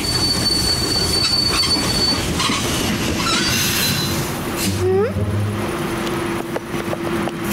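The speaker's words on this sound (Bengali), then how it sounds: "এই ট্রেনটা মাইনফিল্ডে থামবে?" A passenger train runs along the track with a loud, continuous rumble and drawn-out wheel squeals, heard from on board with faint voices underneath.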